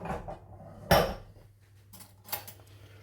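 Two tins of chickpeas are tipped into a jug or bowl for homemade hummus, making a sudden clattering slide and splash of beans, then a smaller second clatter against a quiet kitchen background.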